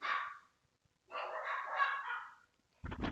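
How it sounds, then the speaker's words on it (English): A dog barks indoors in several short bursts, a first burst, a longer stretch of barking, then a sharp loud bark at the end, with brief quiet gaps and no talk. "no, stop barking, stop barking, no, Lily"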